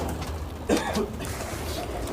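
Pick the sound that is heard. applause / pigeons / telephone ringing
pigeons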